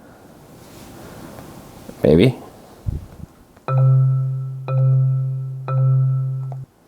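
After brief talk and a handling noise, a carbon dioxide data sonification sounds its lowest C three times, each a steady synthetic low tone lasting about a second with a soft decay, evenly spaced and clear.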